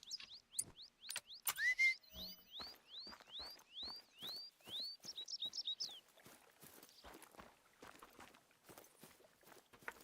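Birds in a hunting video game give a quick run of about a dozen short rising chirps over several seconds, fairly close and clear, alongside soft footstep-like ticks that continue after the chirping stops.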